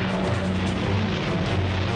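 A WWII fighter aircraft drones steadily in archival footage, giving a continuous rough engine roar with low tonal hum and no breaks, moderately loud over the whole short stretch.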